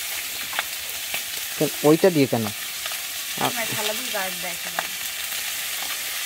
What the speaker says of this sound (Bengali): দেখুন এখানে গার্ড নিয়ে বসে মাছ ভাজা হচ্ছে